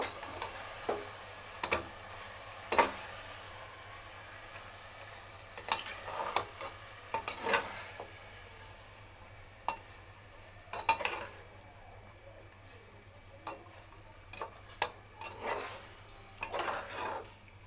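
Bengali-style mutton kosha, the meat frying with spices in a pot, stirred at intervals so the spoon clatters against the metal over a soft continuous sizzle.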